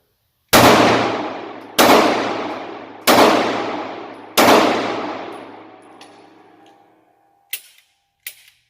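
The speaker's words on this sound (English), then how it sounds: "So we'll put some more rounds through this gun." A pistol loaded with an aftermarket Pro Mag magazine fires four loud, evenly spaced shots, each ringing out with a long echoing decay, followed by two faint mechanical clicks.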